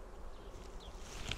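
Honeybees of Central Russian stock hum steadily inside an opened hive during a spring inspection, a faint, continuous buzzing drone with a brief louder bee passing near the end.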